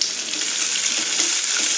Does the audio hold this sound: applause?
no